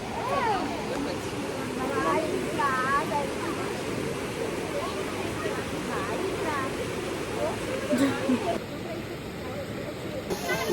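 Steady roaring rush of falling water from waterfalls in Spain, heard continuously with crowd chatter and voices of people waiting in a queue nearby.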